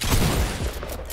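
Rapid gunfire in a Fortnite arena match, a close, loud burst of shots with booming low impacts that thin out toward the end, with no talking.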